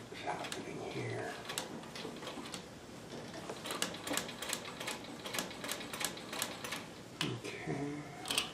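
A Brother sewing machine runs in short bursts of rapid mechanical clatter with small clicks between them while someone talks over the work, adjusting the bobbin thread tension.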